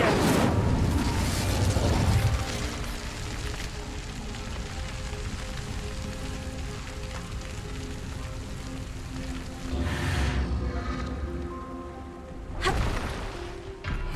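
Incendio fire spell cast in the Hogwarts Legacy video game: sharp fiery bursts, one at the start and two more later, set against a steady crackling hiss in between.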